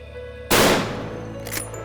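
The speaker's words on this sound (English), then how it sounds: "it's important to test fire our rifles to ensure they're still on zero" A rifle is test-fired to check its zero before a wild boar hunt, one sharp loud gunshot cracking out and decaying over about a second, with a fainter secondary report shortly after.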